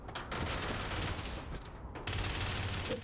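Automated ship turrets firing in the Starfield space combat game, a dense continuous fusillade of rapid gunfire that breaks off briefly and then resumes, loud and alone with no talking.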